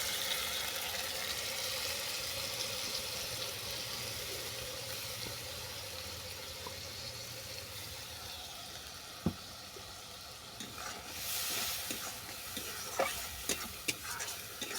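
Pabda fish-bone paste with tomato being stir-fried in a pan: a soft continuous sizzle under intermittent scraping and stirring strokes that grow more frequent and louder near the end, with no talk.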